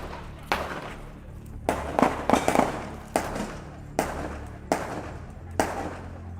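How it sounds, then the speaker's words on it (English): A series of sharp gunshots at a news scene, about eight reports spaced irregularly over several seconds, moderately loud and slightly distant, with no talk over them. "These seem to be gunshots."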